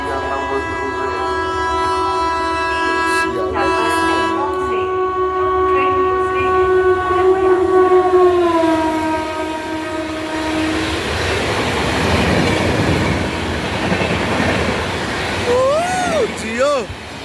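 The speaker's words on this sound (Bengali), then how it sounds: "Up 13153 Sealdah two Malda town Gaur express Belgharia 3 নম্বর প্ল্যাটফর্ম থেকে পাস করবে।" The Gour Express, a Sealdah to Malda Town passenger train, passes through Belgharia station on platform 3. A loud, sustained horn blast rings out first, then fades into the rising roar and rumble of the train rushing by, with a voice calling out near the end.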